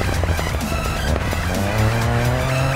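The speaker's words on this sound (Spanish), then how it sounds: "Suelta el acelerador y verás cómo desacelera" A rally car in DiRT 4 coasting off the throttle, its engine note dropping steadily as it slows, with a continuous low drone, tire noise and some gravel scrabbling throughout.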